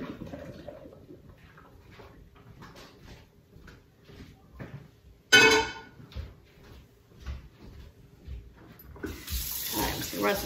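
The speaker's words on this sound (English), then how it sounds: "Run some cold water on those." Cold water runs from a kitchen tap onto cooked potatoes, a bursting gush that starts abruptly after quiet kitchen movements and then continues as a steady hiss.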